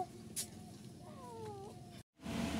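A cat gives a couple of faint, drawn-out meows at close range in a quiet home, followed by a brief dropout and a louder rustle.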